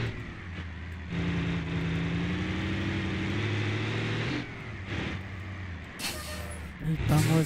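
A heavy truck driving in the BeamNG.drive video game, its engine drone rising loudly and holding steady under excited commentary, then easing off with a hiss and clatter near the end.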